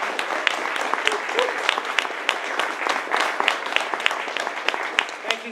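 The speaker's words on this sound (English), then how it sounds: "If we could have another round of applause for all our readers" Audience applause for readers at a literary reading event, a steady wash of many hands clapping with sharp individual claps standing out, fairly close and sustained throughout.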